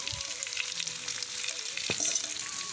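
Pork frying in hot oil with tomato added, a steady close sizzle with occasional stirring clatter throughout, no voices.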